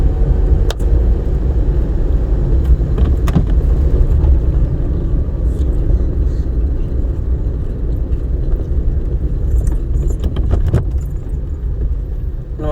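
A car engine hums and rumbles in fourth gear during a driving lesson on a road, a loud steady low drone heard from inside the cabin with faint clicks and rattles, no speech.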